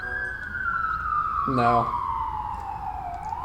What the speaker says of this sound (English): Hey, sirens outside.